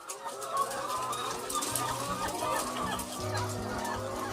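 Laying hens on an Indonesian village egg farm cluck and murmur continuously, many birds overlapping at moderate distance, with a steady low drone of farm or fan noise beneath and no talk.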